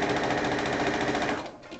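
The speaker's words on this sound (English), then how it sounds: "I sew one side, and then I flip it around" A sewing machine runs fast and loud as it stitches one side of a piece of fabric, a rapid steady mechanical chatter that slows and stops near the end.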